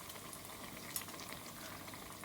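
Layered qatlama dough fries in hot oil while its layers are lifted with two forks. A soft, continuous sizzle and bubbling hiss runs evenly throughout, quiet and close, with a tiny clink partway through and no speech.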